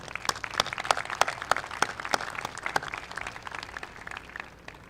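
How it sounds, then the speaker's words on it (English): Applause at a 2018 commencement ceremony: a crowd of graduates, families and guests clapping steadily, with dense overlapping claps and sharper individual hand strikes standing out near the front, then gradually thinning toward the end. "Let's give them a round of applause."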